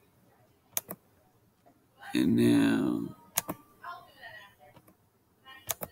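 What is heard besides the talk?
mouse clicks while tracking a ball in video analysis software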